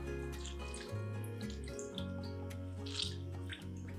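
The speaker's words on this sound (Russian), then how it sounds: "Теперь берем горсть капусты в руки и хорошенько-хорошенько отжимаем из нее воду." Cooked cabbage is squeezed by hand to wring out its water, giving close, wet squelching with trickles and drips falling over several seconds.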